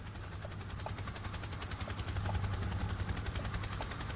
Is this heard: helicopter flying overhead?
yes